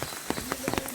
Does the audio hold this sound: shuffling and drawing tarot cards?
no